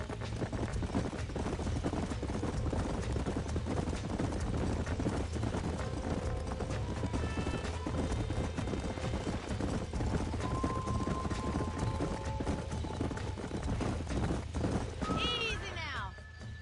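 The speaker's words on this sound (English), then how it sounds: "These are fine horses." Horses in the Western video game Red Dead Redemption, hooves clip-clopping steadily and close throughout under a continuous game soundscape, with a brief whinny-like sweep near the end.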